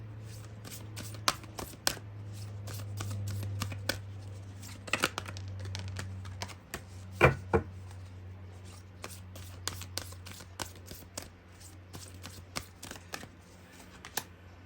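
A tarot card deck is shuffled in a quiet room, with rapid crisp riffling and flicking in close bursts and a few sharper slaps of cards, and low steady hum underneath.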